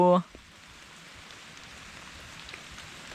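Steady rain patters on a surface with a constant soft hiss, after a brief tonal sound at the very start.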